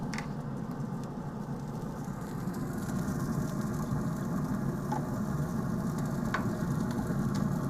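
Beef ribs cooking on a Traeger grill set to 225 give off a soft, steady sizzle and hiss, continuous and fairly faint, with no talking.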